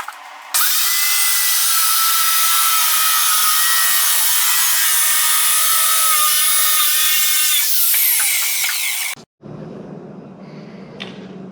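A sheet of plywood being cut with a power saw, a loud steady high whine running for about nine seconds before stopping abruptly, followed by quieter handling noise.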